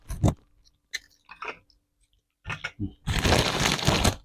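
Crispy pork rinds eaten with noodles and roasted chili give off bursts of close crunching and chewing, a few separate bites, then a long dense run of loud crunching toward the end.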